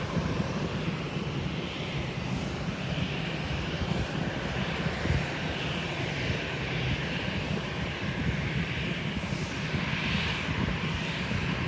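A fixed-wing airliner roars steadily on takeoff from an airport runway at Terminal 2, a continuous loud engine rumble heard from a rooftop vantage point with no talk.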